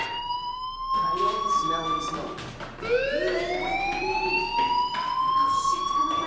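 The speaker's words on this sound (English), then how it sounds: "Hey, do you hear that fire alarm?" In the video game Life is Strange, a school fire alarm sounds steady, loud electronic tones that rise and warble over a busy background, with voices speaking beneath it.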